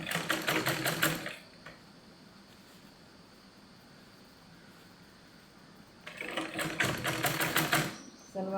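A sewing machine stitches the waistband of a salwar in two loud rapid bursts, one at the start and one near the end, separated by a quiet stretch of low background noise.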